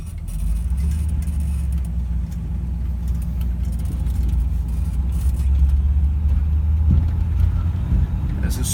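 1965 Pontiac GTO engine with the correct 067 cam idling smoothly, a steady loud low rumble held throughout, with faint voice-like sounds in the mix.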